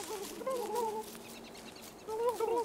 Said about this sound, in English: I hear another turkey.